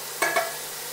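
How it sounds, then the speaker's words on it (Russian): Grated carrot fries in a dry pot with no oil, a faint steady sizzle broken by two quick scraping stirs close by. "насыпал морковку натертую. Сейчас будет ее жарить."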